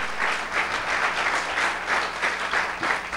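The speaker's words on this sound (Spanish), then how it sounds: "Si le van un aplauso al Señor," Applause from a church congregation during a sermon, sustained and fairly full clapping with gentle swells in intensity and no speech over it.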